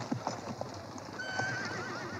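Horse hooves clip-clop in a few uneven, fairly close steps, with a brief whinny mixed in over a soft outdoor background.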